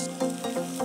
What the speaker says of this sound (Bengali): দেখেন আমি এটাকে লাল লাল করে ভেজে নিচ্ছি।